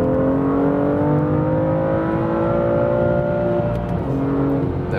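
A BMW M2 Coupé with a 370 hp engine pulls hard in third gear from 100 to 150, its note rising steadily and loud throughout, with a brief dip near the end as a shift comes.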